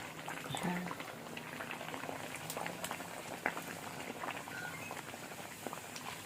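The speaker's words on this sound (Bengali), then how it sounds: "এই দেখো এবার একটা করে নেবো আর ভেজে নেবো" Peas-stuffed kachori frying in hot oil over a wood fire, a steady soft bubbling and sizzle that runs throughout with faint scattered clicks and taps.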